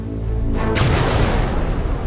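Delayed explosion of a stuck torpedo at sea, heard as a single broad boom that swells after a short pause and rolls on as a sustained low rumble to the end.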